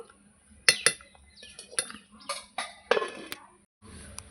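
Metal clinks and clatters sharply against a cooking pot of fish curry with potato and tomato, several close, uneven knocks as a lid is set on, then a quiet hiss.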